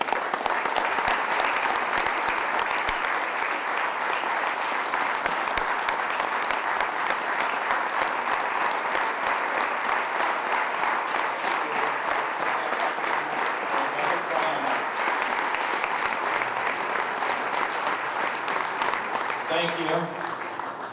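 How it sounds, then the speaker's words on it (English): Sustained applause from an audience at the 2010 South Florida PGA awards night: steady, dense clapping filling the room for about twenty seconds, with a faint voice surfacing near the end. "Let's hear it for Chris Toulson."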